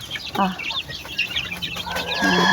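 Pet chickens cluck and chatter close by while being fed, with short, busy calls scattered throughout and a louder burst near the end.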